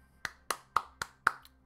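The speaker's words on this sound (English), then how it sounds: "bit of a clap" Five sharp hand claps at an even, steady pace, close and crisp against a quiet background.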